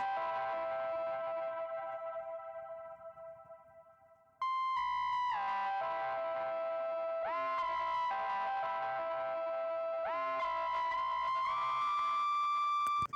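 A sustained keyboard melody drenched in distortion, echoing delay and long reverb, notes smearing into a pad-like wash that fades and returns.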